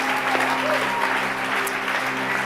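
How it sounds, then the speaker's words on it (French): A church congregation applauds together during a worship service, with sustained, dense clapping and faint musical tones or voices humming beneath the steady crowd noise. "Est-ce qu'on peut applaudir le Seigneur Jésus ensemble?"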